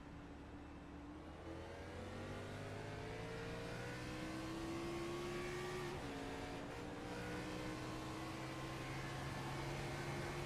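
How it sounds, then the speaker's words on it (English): Race car engines in the iRacing simulation at Texas heard from on board during a restart, a steady droning whine rising gradually in pitch as the car accelerates, with no talk. "Let's watch this restart on board with Bob's and just listen in."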